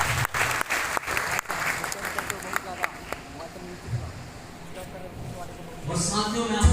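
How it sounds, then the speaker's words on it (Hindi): A large audience at an RCM business meeting in Darbhanga breaks into loud, dense clapping that gradually thins out, with a voice speaking as the applause fades. "तो साथियों इन लोगों के लिए जोरदार तालियां"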